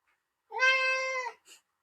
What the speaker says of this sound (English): that the cat wants to join the conversation?